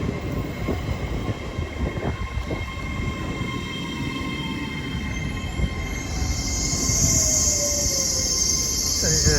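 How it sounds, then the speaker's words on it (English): An LNER Azuma train passes through Doncaster station with a steady rolling rumble, rail hum and a rising hiss as it draws nearer, ending in a brief high wheel squeal; faint voices can be heard in the background. "Coming through now is another LNER Azuma."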